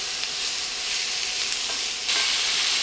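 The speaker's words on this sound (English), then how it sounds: "I'm going to cook these down until the onions are nice and soft and those peppers are nice and soft" Onions and peppers sizzling in a frying pan, a constant crackling fry with occasional stirring scrapes that swells louder near the end, no voices over it.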